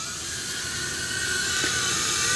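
A DBPOWER UDI U842 Predator quadcopter drone runs at full throttle, its rotors giving a steady, high-pitched whine that holds close and constant throughout.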